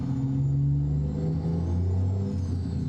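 A Peterbilt truck in American Truck Simulator uses its Jake brake with a loud, steady, throaty engine drone. The low pitch shifts slightly as it continues without a break.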